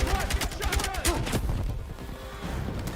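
Gunfire in Battlefield 6, a rapid series of loud sharp shots over the first second and a half, followed by quieter battle noise with voices talking.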